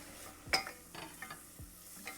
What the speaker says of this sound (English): It is frying in the chorizo fat.